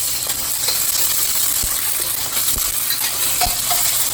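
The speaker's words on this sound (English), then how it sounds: "Your eggs you want really hard fried, and then they'll be all the way through your rice." Two plain eggs hard-frying in a hot wok for Chinese take-out style fried rice, a steady loud sizzle with a few sharp scrapes and taps of a wok spatula stirring them, no voices.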